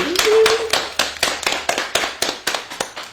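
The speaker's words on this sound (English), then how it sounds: "let's give them a hand clap" A steady round of hand claps, sharp and fairly close, with a brief whistle near the start before the clapping continues in a loose rhythm.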